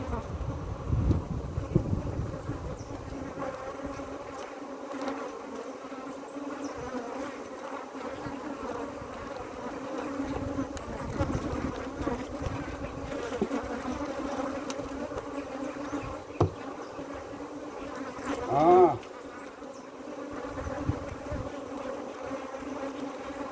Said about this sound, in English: Them bees find a space in my gorilla gloves